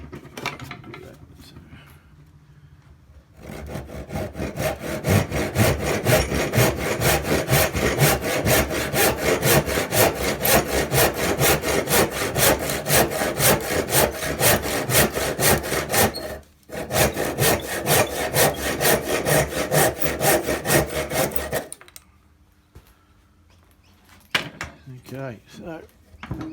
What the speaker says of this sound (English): that'll just get shaped out to there, probably with a type of file or a rasp